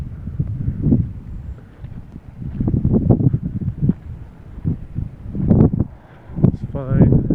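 Gusty wind buffets the microphone among Valencia Pride mango and lychee trees in a Central Florida garden after a hurricane, rising and falling in loud rushes while someone talks throughout.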